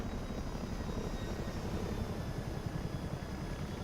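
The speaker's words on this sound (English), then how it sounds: "Oh, there goes the Chinook." A simulated Chinook helicopter in Microsoft Flight Simulator 2024 passes by, its engine and rotor producing a steady, broad, dense drone that stays at an even loudness throughout with no voices.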